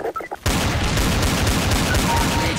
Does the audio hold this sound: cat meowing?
no